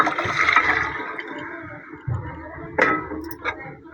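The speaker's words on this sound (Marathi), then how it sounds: "त्याच्यामध्ये मिक्सरचं भांडं धुवून टाकते" Water used to rinse out a mixer jar is poured into a pan of roasted masala for dal, a gushing splash that tapers off, followed by a few light clinks of the jar.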